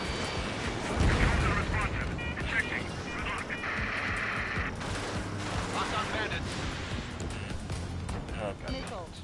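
Aircraft cannon fire in a combat flight video game, with dense, continuous rattling bursts and booms over a steady roar, loud throughout, with voices talking over it.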